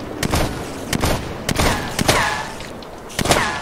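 Repeated gunshots in the video game Minecraft, a string of sharp, loud cracks fired at an irregular pace over several seconds with brief gaps between them.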